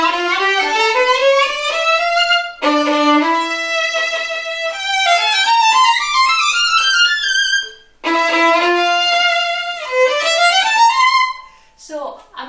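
A solo violin plays an octave scale passage, fingered with first and fourth fingers and shifting gradually. The double-stopped octaves rise in quick, continuous runs, close and clear, with brief pauses between the phrases.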